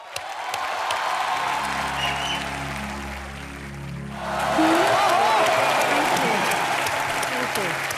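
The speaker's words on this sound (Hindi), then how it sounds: "थोड़ी देर और तालियां बजनी चाहिए अभी, लगातार।" Audience applause and cheering at a televised comedy show, a dense, steady wash of clapping that swells louder midway, with a musical tone underneath early on.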